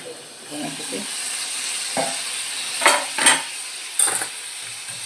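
Salted eggplant pieces sautéing in a little oil in a pan, with a steady soft sizzle broken by several sharper stirring scrapes and clinks near the end.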